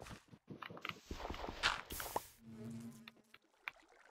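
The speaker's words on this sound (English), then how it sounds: "those bees are scaring me" In Minecraft, bees buzz as a low droning hum that rises in the second half, following a stretch of footsteps and block scuffing sounds.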